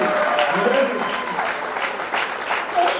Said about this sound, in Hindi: तो एक बार तालियां हो जाए.